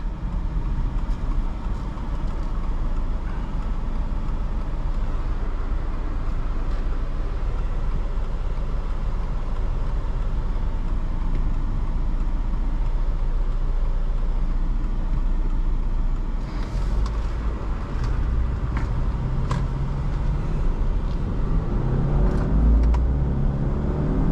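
Inside a 2023 Subaru Outback Wilderness, the engine drones steadily under acceleration through a CVT, a continuous low rumble with road noise and a few faint clicks and thumps from the cabin.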